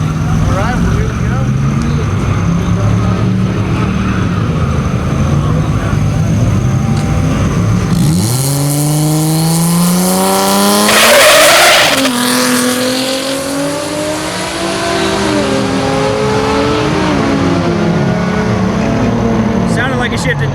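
A stock sealed-motor 3.7 L V6 Mustang launches on a drag strip: the loud engine note climbs through its gears after a rumbling idle, with a brief squeal near the launch and people talking over it.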